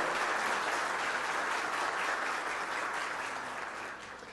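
Sustained audience applause at a Recife honorary citizenship ceremony, a dense, even wash of many hands clapping together, loud and steady before easing slightly toward the end.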